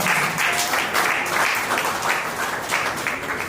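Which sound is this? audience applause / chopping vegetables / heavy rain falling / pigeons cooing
audience applause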